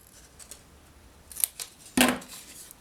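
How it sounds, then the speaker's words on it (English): Scissors snip through paper during a papercraft project, a few faint small clicks followed by one sharp, louder cutting snip near the end, close up in a quiet room. "So we're going to slice it right at the bottom."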